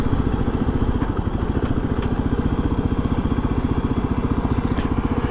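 A KLX 300 motorcycle engine running steadily at idle, a close, even, rapid thumping pulse that holds unchanged throughout with no talk.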